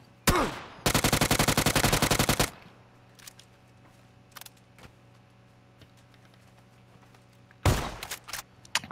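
Automatic gunfire in the battle royale game PUBG: a sharp opening shot, then a rapid sustained burst of about 1.5 seconds, scattered faint shots, and another short loud volley near the end, over a quiet game background.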